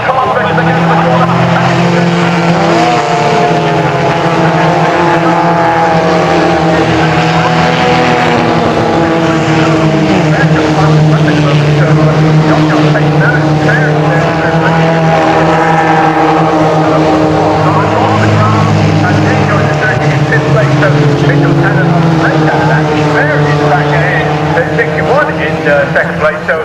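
F3 race cars racing at Castle Combe circuit, engines roaring loudly and continuously as they pass, with rising and falling pitch under constant commentary.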